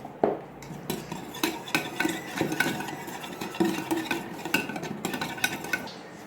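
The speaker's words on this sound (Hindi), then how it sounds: "अब हम इसमें 1 चम्मच खुश्क धनिया पिसा हुआ डालेंगे और अच्छी तरह हम इसको मिक्स कर लेंगे।" Ground coriander being mixed into whisked yogurt for chicken tikka, with a steady run of close spoon-against-bowl clinks and scraping strokes throughout.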